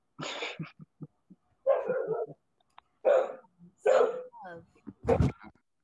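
Several dogs bark in short, sharp bursts at close range, with yips and whimpering between the barks and a few irregular pauses.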